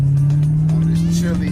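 A repaired Oldsmobile Cutlass G-body car cruising on a chilly day with its gauges out, its engine a steady low drone held close and constant throughout.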